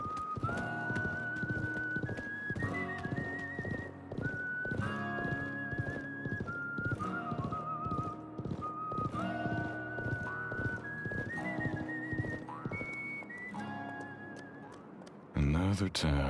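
Horse hooves clip-clop with neighing in the Wild West chapter of the Live A Live video game, steady under continuous melodic game music with a whistled tune, ending in a brief louder burst.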